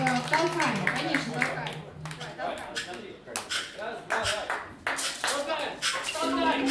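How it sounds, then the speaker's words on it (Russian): Audience applause at a children's jazz concert, a continuous patter of many hands clapping at moderate volume, mixed with voices and stage sounds throughout. "Пожалуйста, поддержите нас аплодисменты."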